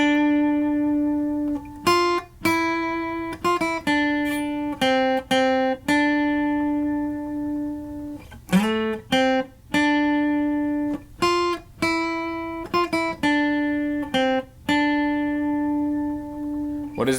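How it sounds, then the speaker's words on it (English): An Orangewood Sage acoustic guitar plays a slow solo melody of plucked, ringing notes held with vibrato, each note sustaining before the next pick. "specifically an Orangewood Sage acoustic guitar"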